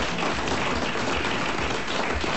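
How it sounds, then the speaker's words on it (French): A studio audience on a French radio comedy show applauds Madame Marcy with dense, continuous clapping at an even loudness throughout, sounding like a broadcast recording, with no one talking over it. "applaudissements pour Madame Marcy avant qu'elle reçoive son mandat"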